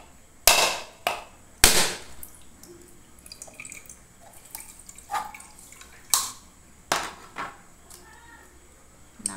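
A coconut being readied for coconut and lentil puli pitha gives sharp, loud knocks and cracks at irregular intervals, some in quick pairs, with quieter scraping and tapping between them.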